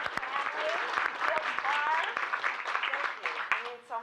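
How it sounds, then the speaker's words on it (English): Small gathering applauds at a snowy Sunday morning house party in Knoxville, Iowa, a close, brisk burst of clapping that tapers off toward the end as a voice speaks. "If we can please applause."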